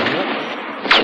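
A single sharp gunshot from a film, cutting in near the end of a second of broadband crackling movie soundtrack noise.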